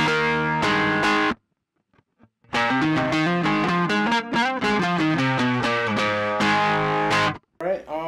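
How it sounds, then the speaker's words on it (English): Loud, heavily distorted electric guitar through an MXR distortion pedal plays chords and a riff, cutting out briefly before resuming with sustained, gritty tone. "The next pedal I'm showing you guys is the MXR, the super badass distortion."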